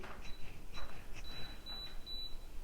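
A series of short electronic beeps from a Schlage keypad door lock, evenly spaced and then closer together, with light button presses underneath.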